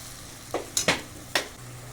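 Mutton masala with tomato sautés in a pan under a low, continuous sizzle, with three sharp, quick scrapes as a spoon stirs the mixture.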